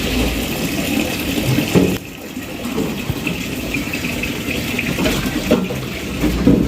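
Water from a municipal water truck gushes steadily into barrels, a continuous rushing splash with a low engine hum beneath it and a brief dip partway through.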